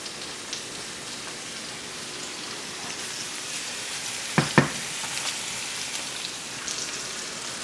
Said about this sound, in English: I'm just stirring up this basil